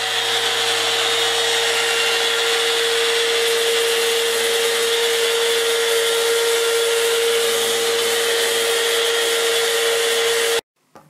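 A compact Fein angle drill sands a large walnut bowl, making a loud, steady high whine with a constant hum that runs unchanged for about ten seconds, then cuts off abruptly.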